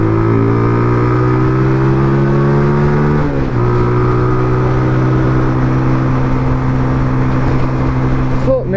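A small motorcycle engine droning steadily while riding, loud and close with a constant tone that dips briefly midway and picks up again, with wind noise throughout.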